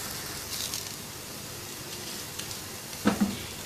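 A potato pancake fries in oil in a pan with a quiet, steady sizzle throughout, and a couple of soft utensil taps near the end.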